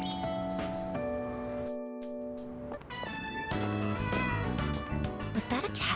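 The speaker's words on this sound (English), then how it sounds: "Was that a cat's meow?" A cat meows in the video game Persona 3 Reload, short mewing calls rising over ongoing game music and chiming effects.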